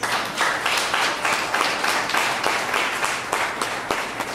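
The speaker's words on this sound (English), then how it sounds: "I would like you also to give the judges a round of applause." An audience applauds the judges at a junior calypso final at the San Fernando Carnival in Trinidad, a steady wash of clapping with individual louder claps standing out, sustained throughout.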